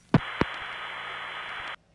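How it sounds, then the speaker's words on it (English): Long-distance call cut-through on a 1977 telephone crossbar tandem switch: two quick clicks followed by a steady hiss of carrier noise lasting about a second and a half, then silence. "our camera tandem can put the call through, and the cut-through sounds like this"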